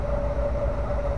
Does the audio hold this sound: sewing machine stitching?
no